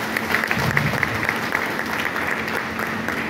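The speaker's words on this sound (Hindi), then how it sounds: "एक बार जोरदार तालियां अपने लिए।" Audience applause at a Vestige Marketing seminar, a steady wash of clapping from a crowded hall that holds evenly for several seconds with no one talking over it.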